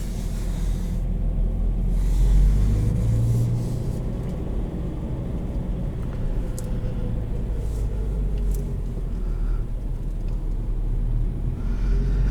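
A 2020 Subaru BRZ Limited with a manual gearbox heard from inside while driving, a steady low engine rumble and road drone that swells slightly early on and then holds evenly throughout, with no talking.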